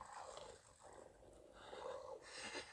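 A dog in the video game Eyes growls low and rough, with snorting breaths rising and falling over a few seconds, fairly quiet and without speech.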